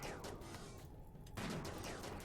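Gunfire during a space-monster battle in the video game Rimworld (Alpha 15), a dense rolling burst of shots that cuts out briefly and then resumes louder, with no voices.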